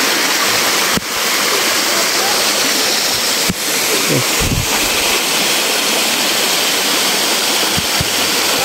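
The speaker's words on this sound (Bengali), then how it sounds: "এখান থেকে বয়ে যাচ্ছে রূপসী ঝর্ণা।" Rupsi waterfall on the Mirsharai trail roars loudly and continuously from close by, with wind buffeting the microphone and a few brief knocks.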